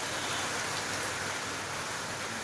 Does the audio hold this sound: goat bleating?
no